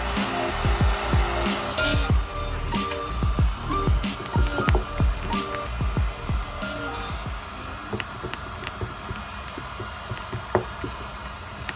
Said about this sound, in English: I'm just using the heat gun to heat it up and then squeeze it out